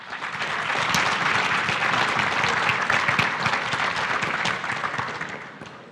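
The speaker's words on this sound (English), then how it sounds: "Guy, give him a great round of applause, will you please?" A dense round of audience applause for the moderator of a Pennsylvania reopening panel, swelling quickly, holding steady and loud, then tapering off at the end.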